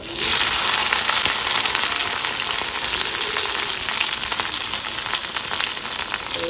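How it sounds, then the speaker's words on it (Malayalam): Mustard seeds splutter and fry in a hot pan in a Kerala home kitchen, a steady dense crackling sizzle that stays loud and close for the whole stretch with no voices. "കടുക് ഫുൾ പൊട്ടിത്തീരുമ്പോൾ നമുക്ക് ഇതെല്ലാം ഇതിലേക്ക് ഇട്ട് കൊടുക്കാം."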